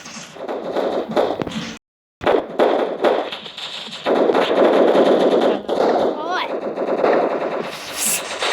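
Rapid gunfire from dual pistols in the video game Blox Strike rattles loudly and almost continuously in dense bursts, broken by one short silent gap. Player voices talk over it.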